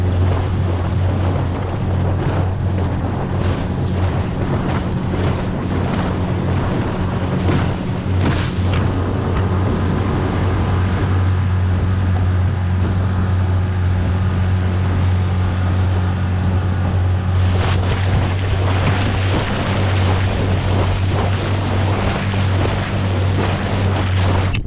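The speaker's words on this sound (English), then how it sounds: "The weather hasn't been great. The water's very choppy." Strong wind buffets the microphone over choppy lake water slapping around a pike-fishing boat on Lake Dalrymple, a steady loud rumble with gusts and splashes throughout, no voices.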